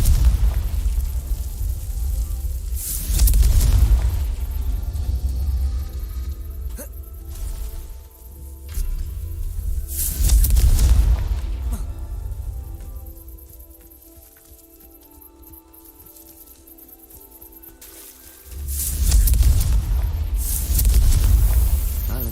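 Fiery explosion spell cast in the Hogwarts Legacy video game, heard as several loud, deep booming blasts spaced a few seconds apart, each swelling and fading, with a quieter stretch of game ambience between them.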